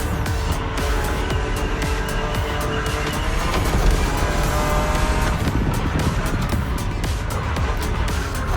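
A BMW Z roadster races against an aggressive opponent in The Crew Motorfest, its engine droning loud and steady throughout with dense road and tire noise, without pause.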